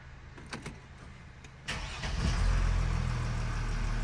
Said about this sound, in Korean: 이제 시동 걸어볼 차례.